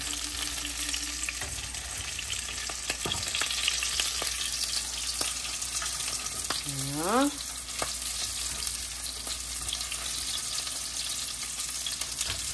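Food frying in oil in a pan, a steady broadband sizzle running throughout, close and continuous, with a few utensil scrapes and a brief rising whistle-like tone partway through.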